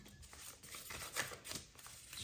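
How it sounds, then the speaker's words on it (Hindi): Tarot cards are shuffled by hand in soft, faint riffling and flicking bursts, close and quiet with no talking. "थोड़ा शफल कर लेते हैं पहले अच्छे से।"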